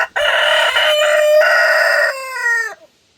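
A rooster on a small farm crows once, a loud close cock-a-doodle-doo lasting nearly three seconds with a rising start and a drawn-out falling end, then silence.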